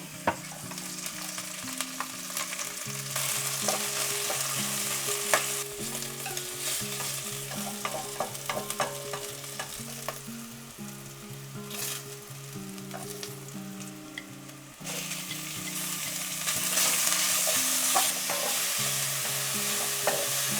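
Meat stir-frying in an oiled pan sizzles steadily with a continuous bright crackle, punctuated by scraping and clinking of a utensil stirring, close and fairly loud, with no talking.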